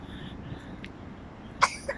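A toddler of about 22 months gives two short, soft coughs outdoors in a park, the second a moment after the first, against quiet background ambience.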